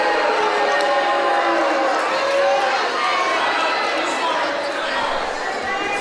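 A home crowd at a girls' high school basketball game in the Greencastle gym reacts with displeasure to a referee's foul call, a sustained wash of voices and shouts echoing through the gym.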